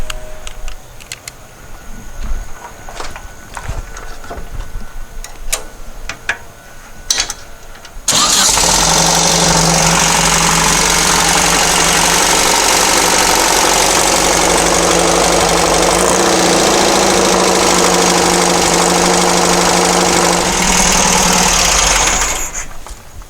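A dune buggy engine cranks and rattles briefly, then catches and starts, settling into a loud, steady idle that runs for over ten seconds before shutting off.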